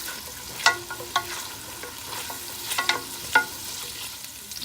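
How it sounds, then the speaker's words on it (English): Garlic frying in oil in a pot, a soft sizzle punctuated by several sharp clinks and scrapes of a utensil against the pot at irregular intervals. "I'm gonna put the garlic, fry it for a bit"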